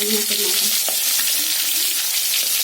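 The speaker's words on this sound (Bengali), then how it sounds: "মাছের মাথাটা ভেজে নেব" A fish head fries in hot oil, giving a close, steady sizzle with bursts of crackling and the scrape of stirring throughout.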